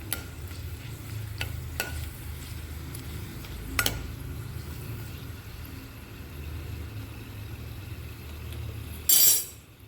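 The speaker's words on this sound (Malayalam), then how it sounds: "കായം നന്നായിട്ട് പൊരിഞ്ഞ് വരണം." A small piece of asafoetida (hing) frying in hot sesame oil gives a steady, low sizzle, with a few faint clinks and a louder clatter near the end.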